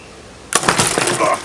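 Compressed-air grabber prop opening via solenoid valve at about 35 psi: a sudden sharp burst of hissing air with rattling mechanical clatter after a half-second of quiet, loud and close.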